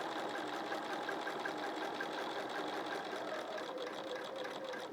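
A domestic sewing machine stitches a quilt, its motor a continuous, close, even whir with rapid needle chatter, running alone without pause.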